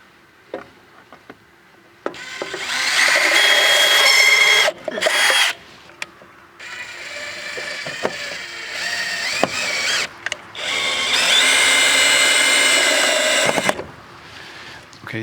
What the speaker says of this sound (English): I'm going to drill a pilot hole up here.